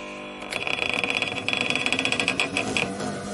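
An electric motor in a teaching lab spins back up once its drive belt is refitted, a rapid rhythmic whirring chatter with a high steady whine, starting after a brief pause and running fairly close.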